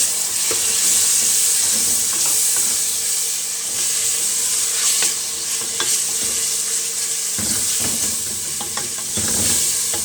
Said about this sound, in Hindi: साथ ही अब हम जो टमाटर हमने लिए थे वो ऐड करेंगे